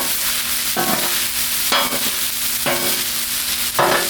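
Browned ground beef sizzles steadily in a pan while a spatula scrapes and pushes it aside in several separate strokes, close and fairly loud with no talking.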